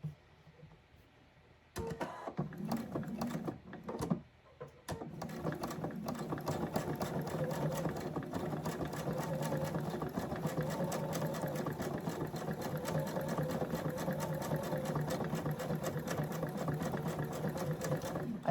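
A sewing machine runs at a steady, rapid stitching pace while quilting, after a few short bursts of stitching at the start. The clatter is continuous and close, and no voices are heard over it.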